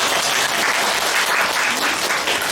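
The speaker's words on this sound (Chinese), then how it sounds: "我们是给茂哥一个掌声。" Audience at a book signing in a Taipei bookstore applauding, dense steady clapping from a crowd, close and loud for the whole stretch.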